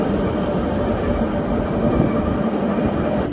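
Swiss mountain train riding toward Mürren with windows open, a steady loud rumble of wheels on rails with rhythmic clatter and faint squeal, no voices.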